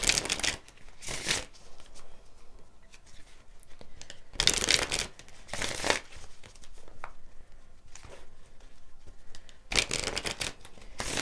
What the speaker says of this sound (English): Let me get another card for you.